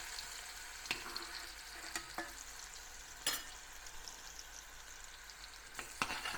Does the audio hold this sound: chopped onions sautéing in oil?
yes